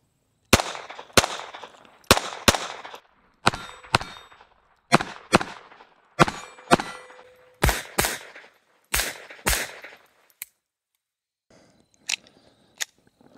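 A Walther P22 pistol fires CCI Blazer rounds in a quick string of roughly fourteen sharp, loud cracks at uneven intervals, ending with a few fainter metallic clicks.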